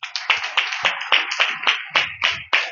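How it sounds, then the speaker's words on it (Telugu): A Sunday church congregation claps in a crisp, steady rhythm, around ten sharp claps close by and fairly loud, with no talking over them. "చప్పట్లు కొట్టాలి"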